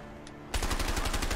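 Rapid automatic gunfire in the video game A Way Out, starting abruptly after a quiet moment and continuing as loud, evenly spaced bursts of shots.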